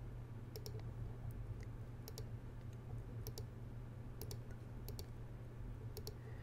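A computer mouse clicking, in short, sharp, faint clicks at irregular spacing over a quiet hum.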